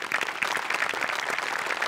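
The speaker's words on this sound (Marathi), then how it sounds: "सगळ्यात आधी मोठे सरांसाठी खूप जोरदार टाळ्या व्हायला पाहिजेत" A studio audience at a Marathi comedy show breaks into steady, dense applause, close and full, a continuous wash of many hands clapping without a break.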